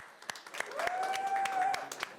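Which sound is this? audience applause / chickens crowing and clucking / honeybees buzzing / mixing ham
audience applause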